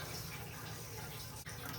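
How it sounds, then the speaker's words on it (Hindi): Water pours steadily into a deep cooking pot for sugar syrup, a continuous rushing splash at moderate level with one brief dip near the end. "अब मैं इसमें पानी डालूँगी।"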